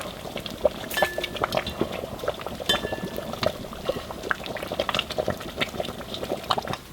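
Soup or stew bubbling hard in an uncovered pot on a Silverfire Survivor stove, a dense, continuous boil with frequent splashes, pops and occasional light metallic clinks.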